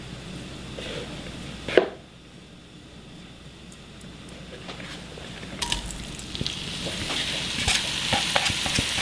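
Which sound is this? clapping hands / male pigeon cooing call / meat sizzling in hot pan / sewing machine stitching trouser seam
meat sizzling in hot pan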